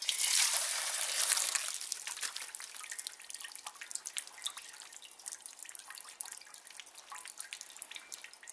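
Diesel drips and trickles into an old container beneath the fuel filter of a 2.2 diesel Honda Accord, a quick, irregular patter of small drops heard up close and alone.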